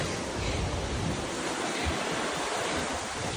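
A mountain torrent rushing near Chamonix gives a dense, constant roar of churning water, close and loud without pause, with some wind buffeting the microphone.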